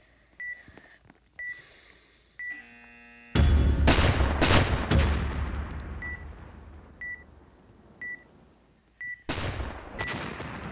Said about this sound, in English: These boys got cannons!